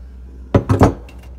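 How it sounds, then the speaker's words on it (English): Channel locks grip and tighten a compression nut under a Moen bathroom faucet, producing three quick metallic clinks and scrapes close by, followed by a couple of faint taps. "You start tightening that nut down."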